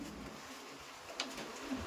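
Giribaj pigeons coo softly at a seller's stall, a faint low cooing with one small sharp chirp partway through, quiet and close.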